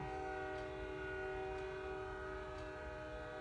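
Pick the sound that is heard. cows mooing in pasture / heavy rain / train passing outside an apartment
train passing outside an apartment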